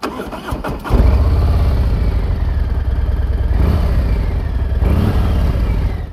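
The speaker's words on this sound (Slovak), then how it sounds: "túto motorku musím vlastne zobrať na túto jazdu" A Harley-Davidson motorcycle engine, likely a Street Glide, Pan America or Heritage model, starts and settles into a loud, steady, close rumble that swells briefly partway through before easing off.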